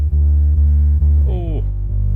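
Distorted bass track from an anthemic pop mix, a thick sustained low tone with a gritty buzzing edge, loud and close, shifting pitch once with a brief bending upper layer.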